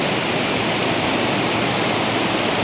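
Floodwater of the Khadakpurna river near Deulgaon Mahi pours over a small submerged bridge, a loud, continuous broadband roar of rushing water with no pauses or voices.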